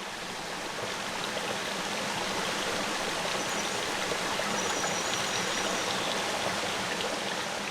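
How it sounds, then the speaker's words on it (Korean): Rushing stream water on a mountain walking trail in Taebaek, a dense, steady roar of flowing water heard from a little distance, constant and unbroken throughout with no voices. "세찬 물소리가 저만치서 들려옵니다."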